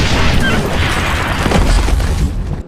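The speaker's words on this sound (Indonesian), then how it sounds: "Ledakan besar pun tak lagi bisa dihindari." A large bomb explosion in a film scene: a loud, sustained boom with broad rumbling and crashing debris that fills the whole clip before cutting off abruptly at the end.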